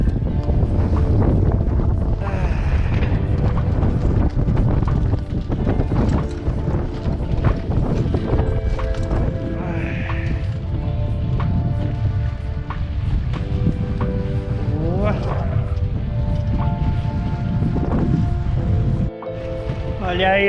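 Strong wind buffeting a sailboat sailing close-hauled on a reservoir, a loud continuous roar with water rushing against the hull, while people talk throughout.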